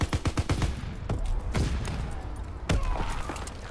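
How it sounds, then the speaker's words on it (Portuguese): Gunfire in Call of Duty WW2 online multiplayer on PS4: a rapid burst of shots opens, followed by scattered single cracks and another loud shot, over a busy background of battle noise. "Abaixa, muito tiro!"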